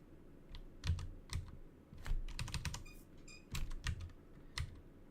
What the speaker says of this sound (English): Is the keyboard too loud?